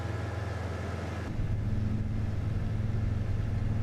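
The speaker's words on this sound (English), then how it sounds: "You hear, like, the engine sounds for the most part are better." A steady low engine rumble from a farm vehicle in Farming Simulator 25, idling evenly and then growing slightly louder and rougher as it picks up.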